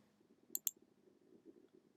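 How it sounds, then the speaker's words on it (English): Two crisp, close computer mouse clicks in quick succession, a right-click on a file, over a faint low room hum with no talking. "So I'm going to right click it"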